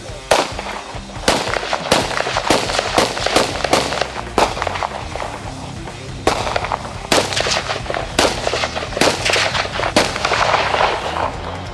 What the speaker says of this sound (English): This time around, I shot an AK-47. I got to shoot a pistol.